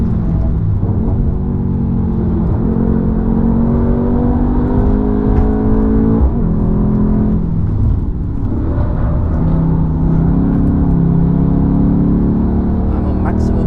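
A Korean-spec Mercedes C63 AMG on the Nürburgring at maximum power, its engine droning loudly and steadily with rising and falling pitch through gear changes, under a person talking.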